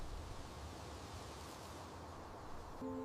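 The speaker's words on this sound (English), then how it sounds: "Listen to the wind." Wind sweeps across a farm in a continuous soft rushing hiss that holds steady throughout, with a brief tonal sound creeping in at the very end.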